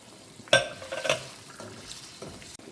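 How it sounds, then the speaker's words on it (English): Sweet and sour sauce for Filipino bola-bola meatballs, with pineapple chunks, is stirred in a pan, giving two close, clattering stirs with a light sizzle early on before settling into quieter scraping. "So we're just gonna mix everything in there."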